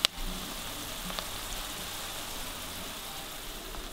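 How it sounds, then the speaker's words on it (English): Low, even sizzle of garlic, jalapeno and onion sautéing in a pan, a soft continuous crackle with a faint clink at the start and no talking. "now I saute the garlic, jalapeno, and the onion for a while until they open up all the flavor"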